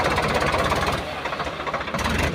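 A sugarcane-hauling tractor stuck in a river chugs loudly and steadily nearby, its rhythmic diesel knocking running throughout without pause.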